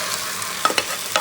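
Dhaba-style Aloo Bhuma gravy sizzles in a hot pan while being stirred: a steady close frying hiss broken by a few quick scrapes and clinks of the spoon, with no voices.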